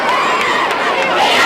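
A huge crowd at a Dakota Bowl high school football game between Harrisburg and Sioux Falls O'Gorman keeps up a loud, dense roar of chatter and cheering without a break.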